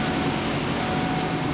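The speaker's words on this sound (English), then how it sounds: "As you can hear, the engine is running" A GMC or Chevy truck engine idles steadily just after starting, making a continuous, even broadband drone with no rhythm changes and no talking.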